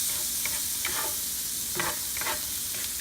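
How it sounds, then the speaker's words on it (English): Onions frying in a pan for chicken Madeira hiss steadily up close while a spoon stirs them in several quick scraping strokes over the sizzle. "Give it a good stir."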